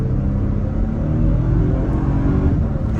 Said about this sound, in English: when that boost kicks in, this thing can really start to get up and go.